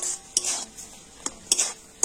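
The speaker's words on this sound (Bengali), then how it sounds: "আর এখন আমি সুজিটা কিন্তু জলের সাথে কন্টিনিউ নাড়াচাড়া করে একটা শক্ত ডো তৈরি করে নেব।" Semolina and water being stirred into a stiff dough, with a spoon scraping and knocking against the pot in short bursts, a few sharper clinks among them, close by and with no voices.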